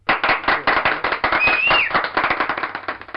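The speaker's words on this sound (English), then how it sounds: "Where's my applause?" A small group claps in a dense, rapid burst for about three seconds, close and fairly loud, with a brief high whistle-like tone partway through and no talking.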